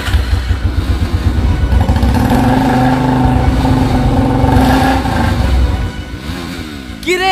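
Motorcycle engine starting up and revving, a loud close rumbling idle that rises and holds steady for several seconds before dropping off, with a brief clatter at the very end.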